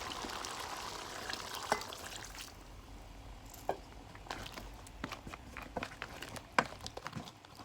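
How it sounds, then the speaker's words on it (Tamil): Coconut milk poured into a pot of crab curry in a kitchen, a soft trickling pour followed by faint scattered clinks and taps of utensils, quiet and close with no talk. "இப்போ நாங்கள் கொஞ்சம் தேவையான அளவு தேங்காய் பால் சேர்த்துக்கொள்வோம்."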